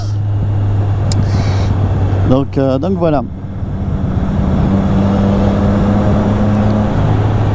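Triumph Street Triple 660S motorcycle cruising in sixth gear at low town speed, a steady low engine drone running throughout with a brief stretch of talk over it partway through.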